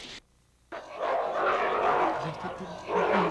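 A dog barks and growls in a rough, continuous burst after a brief moment of quiet, close and fairly loud.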